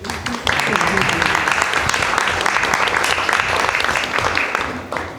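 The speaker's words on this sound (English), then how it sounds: "let's give Kate a round of applause" An audience applauds speaker Kate Armstrong at a talk, the clapping rising sharply after a brief start and holding dense and steady for several seconds before easing slightly.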